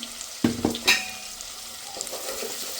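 Sliced onions frying with salt in a pan for biryani: two clanking stirs, then a sharper scrape, over a continuous close sizzle that softens toward the end.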